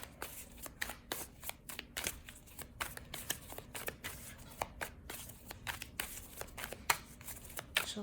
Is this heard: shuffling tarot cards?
yes